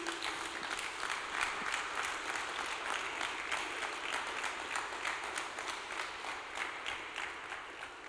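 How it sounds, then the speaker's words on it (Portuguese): A church congregation applauds for Jesus in a sustained, even wash of clapping that holds steady for the whole stretch, dense and moderately distant, with no voices over it. "Uma salva de palmas para Jesus."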